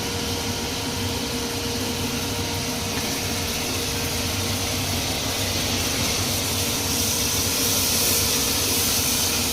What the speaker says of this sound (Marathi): आता जरा टोमॅटो थोडा सॉफ्ट होईपर्यंत मी फ्राय करते